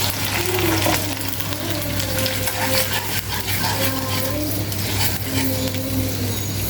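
Sour yogurt is added to hilsa pilau masala with ginger paste, frying in a pot and stirred steadily, a continuous loud sizzle with scraping spoon strokes and a low hum, no talking.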